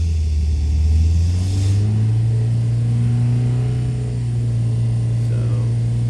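A brand new rally Imp engine on tight tolerances runs on a dyno with a loud, steady mid-pitched drone, its revs climbing smoothly partway through and then holding high and even without pause.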